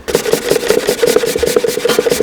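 Frozen ginger is grated in quick, rhythmic back-and-forth strokes, a loud, close scraping rasp repeating about a dozen times with no talking.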